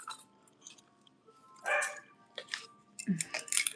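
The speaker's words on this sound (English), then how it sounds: "I think she's barking because the other dog is barking from the inside." Two dogs bark back and forth, one outdoors and one indoors, at an estate sale. The sharp barks come in short bursts, moderately close, with faint clinks of glass in between.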